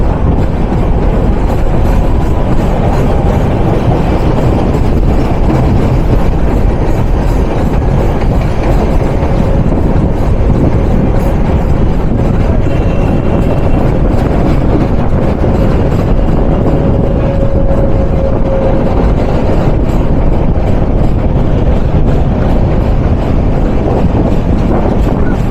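A passenger train runs on a dual-gauge line between Narayanganj and Dhaka, heard from on board as a loud, continuous rumble with rhythmic wheel clatter and a faint wheel squeal partway through.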